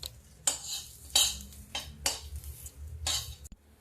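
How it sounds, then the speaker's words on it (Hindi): Dry fruits are stirred while frying over a low flame, with a spoon scraping and clinking against a metal pan in a loose rhythm of about five strokes. A faint frying hiss sits underneath, close and fairly quiet. "देखिए इसको मैं धीमी आंच पे थोड़ा थोड़ा फ्राई करती हूँ"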